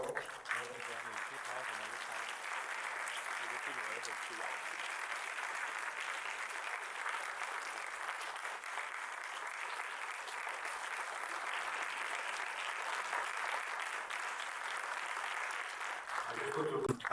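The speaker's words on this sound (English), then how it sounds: "Can I have a big hand of applause, please?" Sustained audience applause fills a sommelier contest final, the Best Sommelier of Asia & Pacific 2025, steady and dense for about sixteen seconds before a brief voice returns at the very end.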